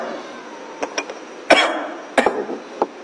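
Several sharp coughs, two of them loud bursts with quieter hacking between, sounding close by in a quiet indoor setting with no talk over them.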